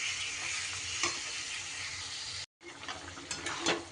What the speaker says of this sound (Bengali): এবার সুন্দর করে একটু নাড়িয়ে চাড়িয়ে নিয়ে ঢাকা দিয়ে হাই ফ্লেমে আমি চিকেনটা কিন্তু রান্না হতে দেব